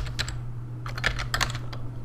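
Keys clatter on a computer keyboard in quick, uneven bursts, close and fairly quiet, over a low steady hum, with no talk.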